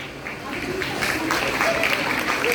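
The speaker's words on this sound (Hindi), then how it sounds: "सादिया के लिए जोरदार तालियां।" Applause from a group in a classroom activity session, a steady patter of clapping hands that builds slightly and keeps going, with a voice speaking over it.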